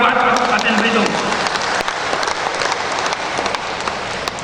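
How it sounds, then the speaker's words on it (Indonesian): Audience applause at a reception for the 109th anniversary of Muhammadiyah in Bangka Belitung, a dense, steady clapping that fills the clip and fades slightly toward the end, with a voice speaking faintly over it. "Tepuk tangan buat Kabupaten Belitung."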